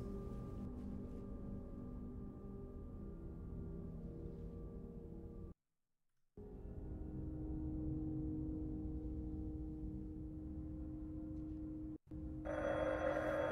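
An old telephone rings in the horror game I Saw Black Clouds, a steady sustained tone with a brief cutoff midway, continuing alone over low game ambience.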